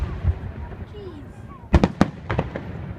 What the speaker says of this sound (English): Didn't Kristen hate fireworks?